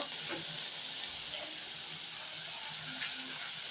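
Red chillies, cumin and pepper sautéing in a pan, a steady soft sizzle with faint crackles and light stirring, heard close and quiet, with no talking.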